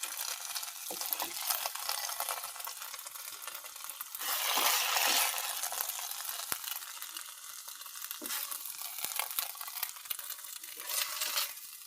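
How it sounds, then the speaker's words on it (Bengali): Water lily stems fry in a pan, making a constant close sizzle with scattered stirring scrapes and clicks over twelve seconds, swelling briefly in the middle, with no voices. "তো আমি শাপলাটা এখন উঠেই নেব, ভাজা হয়ে গেছে।"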